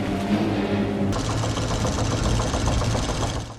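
A boat engine overheats in the shark film Jaws: a rhythmic, knocking mechanical rattle steps up abruptly around one second into a faster, harsher clatter, loud and continuous with no talking.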